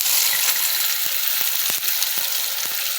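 Peanuts, chana dal and urad dal fried with onions sizzle steadily in a pan, with a ladle stirring and scraping in irregular soft clicks throughout.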